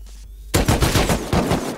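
Gunfire in a survival video game breaks out after a brief quiet moment, a rapid burst of loud automatic shots close by, sharp cracks following one another without pause.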